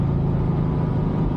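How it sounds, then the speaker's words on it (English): A 1991 Porsche 911 Carrera 2 Targa engine and exhaust, one of its two mufflers removed, rumble with a deep, steady drone, close and continuous throughout. "this car had 2 mufflers, and it deletes one of the mufflers, keeps the primary muffler, which Darren's modified a bit too"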